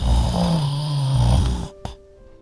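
A dinosaur's loud snore from a children's story: one long, deep, rattling rumble that fades out, followed by a faint short snort in quiet.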